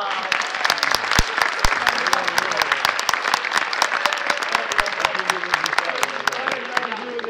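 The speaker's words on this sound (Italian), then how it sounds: "Ma che fai un bel applauso!" A theatre audience applauds steadily throughout, dense continuous clapping from a large crowd with voices mixed in beneath.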